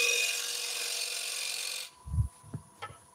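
A woodturning gouge cuts the rim of a bowl on a lathe, making a continuous bright hiss that stops abruptly after about two seconds. A few low knocks and thumps follow.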